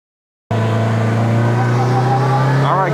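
A 2025 Polaris Slingshot three-wheeler's engine starts abruptly after a brief silence and runs loud and close with a steady, humming drone while driving, a faint pitch sweep near the end.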